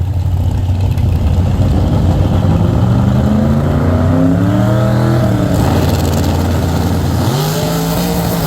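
Corvette drag race car engine at a drag strip, revving loud and close throughout, its pitch climbing in repeated surges before dropping back and rising again near the end.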